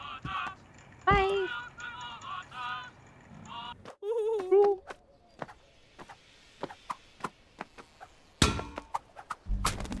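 Cartoonish birds in the video game Thank Goodness You're Here honk in short tonal calls, some in quick strings, alongside sharp thuds and clicks amid game music, with a voice talking briefly.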